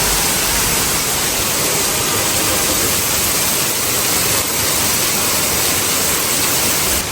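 Heavy rain falls steadily at night, a dense unbroken hiss that stays loud and even throughout, with no voices.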